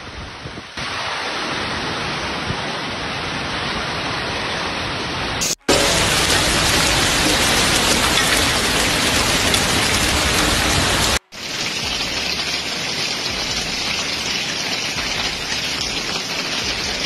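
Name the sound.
hailstorm with strong wind in Milan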